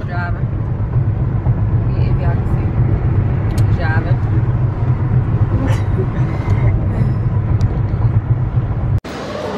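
Steady low road rumble of a car driving along, a continuous engine and tire drone from inside the cabin with people talking over it, cut off abruptly near the end.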